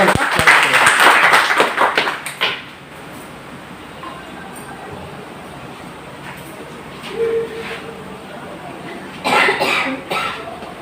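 An audience at an awards ceremony breaks into a burst of clapping that fades after a couple of seconds, followed by a quiet room and a few scattered claps near the end.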